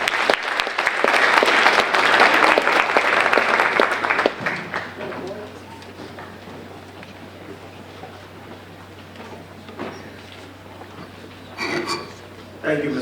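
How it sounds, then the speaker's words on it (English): Audience at a high school senior awards ceremony applauds the accompanist, loud sustained clapping for about four seconds that then fades to scattered claps and room murmur, with a brief burst of claps near the end. "So round of applause for him."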